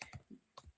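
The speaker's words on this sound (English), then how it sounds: "So while I'm typing it in," Several soft, quick keystrokes on a computer keyboard in a quiet room, a brief irregular burst of clicks with no talk.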